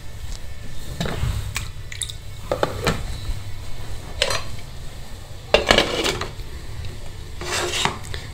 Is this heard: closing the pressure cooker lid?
yes